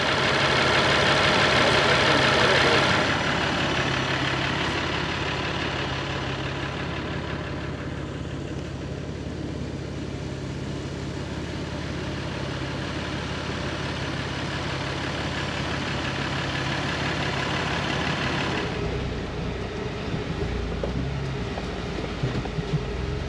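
A truck engine idles while the steering wheel is turned back and forth, a steady mid-low rumble holding throughout, louder at the start and shifting slightly near the end, with no talk.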